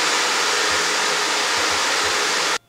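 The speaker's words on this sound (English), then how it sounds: "I also turned my blow dryer off as I'm bringing it down" A blow dryer roars steadily and loudly as hair is styled, a constant airy rush that cuts off abruptly near the end.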